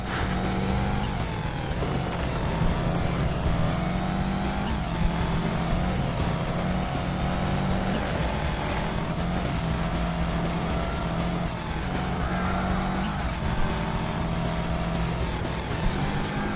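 Roaring racing car engines in a PSP video game rise and fall in pitch continuously, like cars speeding and shifting gears, loud and steady throughout.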